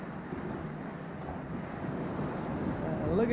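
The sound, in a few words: ocean waves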